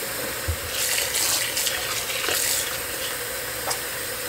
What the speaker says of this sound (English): So I'm just gonna add a bit more water.